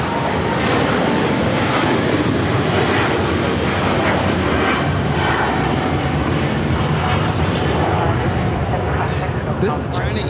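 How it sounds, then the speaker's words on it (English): A China Eastern Airlines Boeing 777-300ER takes off from LAX bound for Shanghai, a loud sustained jet roar with steady broadband power, nearby and unbroken, with voices faintly underneath. "This is China Eastern Airlines 586 taking off to Shanghai on the 777-300ER."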